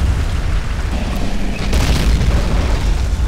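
An artillery shell exploding in the Men of War Assault Squad 2 battle, heavy booming blasts with deep rumbling low end, a fresh burst around the middle and continuous loud battlefield roar throughout, with no voices.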